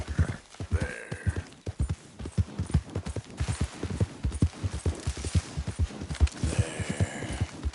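Horse hooves in Red Dead Redemption 2 clip-clopping in a steady galloping rhythm, a run of close, distinct thuds lasting throughout with faint rattles and ambience behind.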